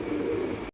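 A white lakha fantail pigeon gives one short, low cooing call up close, a brief throaty murmur that ends abruptly.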